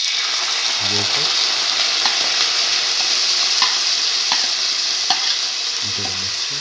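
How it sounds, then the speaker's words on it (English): Yogurt being stirred into a sizzling ginger-tomato mixture in a pan over a low flame, a steady loud frying hiss with a few soft scraping strokes near the start and end. "Mix thoroughly in low flame for a minute."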